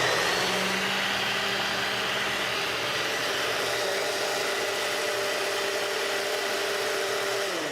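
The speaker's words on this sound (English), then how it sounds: "now that is a very fast blender right there" A blender runs at high speed for a breakfast recipe with protein powder, a loud, steady whirring roar throughout whose motor pitch shifts slightly partway through, with no talking.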